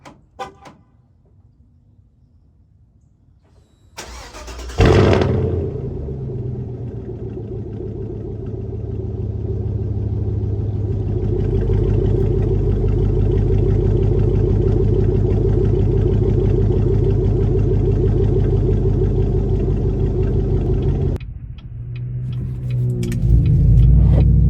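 Chevrolet LTZ truck with a loud exhaust firing up on a semi-cold start after a few hours sitting: a sharp crank burst, then a deep, steady rumbling idle that swells slightly before cutting off, with a door sound at the end.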